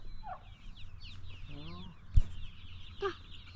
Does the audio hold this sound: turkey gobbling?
yes